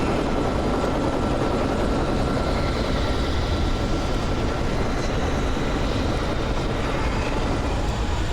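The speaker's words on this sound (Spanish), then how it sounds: "Helicóptero, man." A helicopter in Alan Wake Remastered drones loud and close, its steady rotor roar and engine noise filling several seconds without break and with no talk over it.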